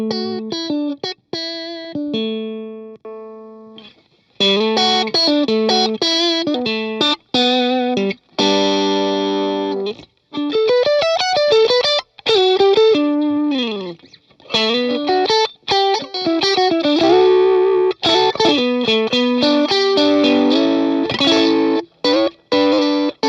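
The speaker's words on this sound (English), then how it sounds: "Having a little bit more drive in the high end allows you to comp some great AC style tones." Electric guitar through a Seafoam Trident overdrive pedal gives driven, slightly gritty tones with a bright top end, playing chords and single-note riffs loud and close, with short pauses between phrases.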